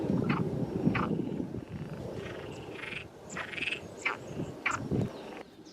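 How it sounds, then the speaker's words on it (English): Iberian water frogs calling from an overgrown freshwater ditch in the Algarve, a chorus of repeated rasping croaks in short bursts, fairly close and loud, with no voices. "an overgrown freshwater ditch reverberated to the call of Iberian water frogs"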